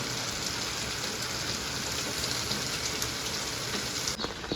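Steady rain pours outdoors in an even, dense hiss that stays constant throughout, with a brief dip near the end and no voices.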